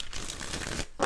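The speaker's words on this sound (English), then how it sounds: "let's do four major shuffles" Quick papery riffling of tarot cards being shuffled, a steady soft flutter close by, ending in a sharper burst of snapping.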